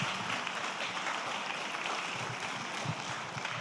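Audience applause at a European digital forum in Lucca, a steady, dense wash of clapping that holds evenly for several seconds with no voices over it.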